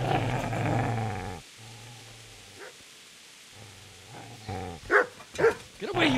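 A dog in the medieval game Kingdom Come: Deliverance growls low and steadily, then breaks into several sharp close barks near the end, after a voice at the start.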